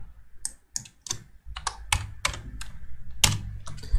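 Typing on a computer keyboard while entering an email address, with a quick irregular run of sharp key clicks spaced by brief pauses, close and clear with no talking.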